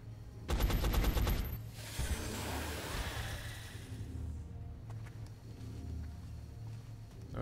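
An XCOM: Enemy Unknown soldier fires a weapon in a loud rapid burst of automatic fire, followed by a fading whoosh and low ambient hum.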